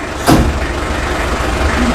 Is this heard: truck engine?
yes